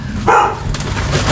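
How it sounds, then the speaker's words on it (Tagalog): A dog gives a short, loud bark close by, then a softer second yelp in a noisy outdoor setting, with no talking over it. "May aso."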